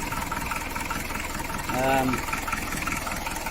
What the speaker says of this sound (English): It is at least running on 4 cylinders, even though it's a little bit shaky.